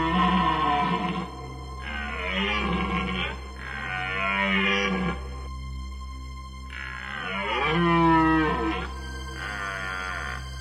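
A red deer stag bellows during the rut on the Aubrac plateau, several long, deep, groaning roars in a row with short pauses, loud and fairly close over a steady low hum.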